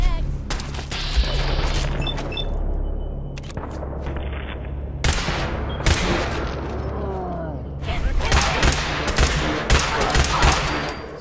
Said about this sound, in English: The laser weapons feel a lot more solid than they did in years past.